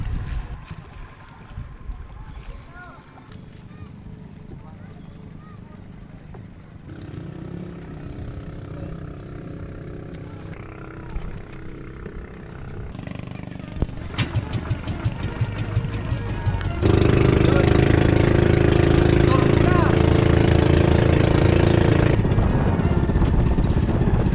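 A small green motor boat (bangka) near Siargao, its engine droning steadily and growing louder and rougher as it speeds up, with wind and water noise building over the run.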